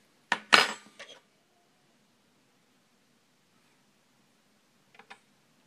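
Small silver teaspoons from a metal-detecting hoard being handled, giving a couple of bright close clinks and a short rattle at the start, then quiet before two faint light taps near the end.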